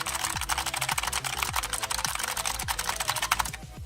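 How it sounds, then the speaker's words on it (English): Fast, continuous clicky keystrokes on an EVGA Z20 optical mechanical gaming keyboard with clicky switches, loud and close, typed in a frantic burst like heavy gaming input, with regular low thumps under the clatter and no talk. "This is what the keyboard sounds when you are gaming or streaming, so you guys can know exactly how noisy this is."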